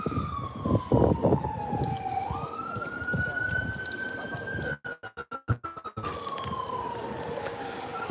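Ambulance siren wailing at a fire scene, a rising and falling tone sweeping steadily at moderate distance, broken briefly by a burst of wind buffeting, with faint voices in the background.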